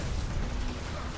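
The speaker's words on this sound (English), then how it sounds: "Grenade!" Grenade blast in the video game Destiny, a single loud, dense, rumbling boom with a brief roaring tail filling the whole moment.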